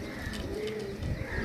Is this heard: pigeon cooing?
yes